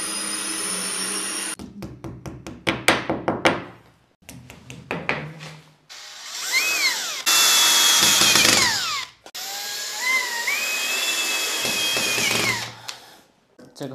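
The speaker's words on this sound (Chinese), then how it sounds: "所以我们打孔的时候要自己去判断这个砖" A power drill bores holes into brick during sliding-partition installation, with rapid ratcheting bursts, then long loud whining grinding passes that rise and fall in pitch, separated by brief pauses, close and alone.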